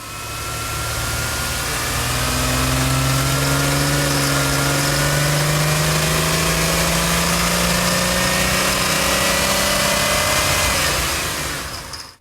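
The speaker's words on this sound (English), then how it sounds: "go for another full throttle blast up and down the road here" A car engine with a freshly tuned distributor, prone to slight ping, is taken through a full-throttle blast along a road. The loud, close engine note climbs steadily for about ten seconds with no talking.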